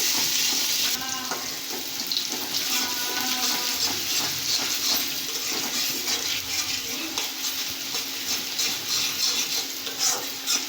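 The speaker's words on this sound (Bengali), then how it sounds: "আমি এই জায়গায় কড়াই চাপাই দিচ্ছি, পেঁয়াজ তেল দিচ্ছি, মশলা কষাবো" Onions and oil sizzling in a kadai while being stirred, a steady close frying hiss with scraping and clinks of a utensil against the pan, no talking.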